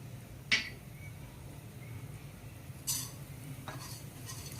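Roasted coconut is sautéed with black pepper and garam masala in a little oil for Kolhapuri misal. A spoon gives a few sharp, separate clinks against the pan over a quiet, steady background.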